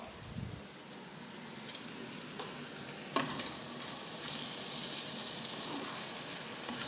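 Steady sizzling of an omelette frying in a hot pan, with a few stirring scrapes and clicks; continuous and fairly close, no voices.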